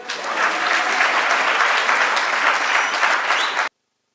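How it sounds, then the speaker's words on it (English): Applause from a crowd at a University of South Africa spring graduation ceremony, steady and fairly loud for about three and a half seconds, then cutting off abruptly. "Give me a round of applause."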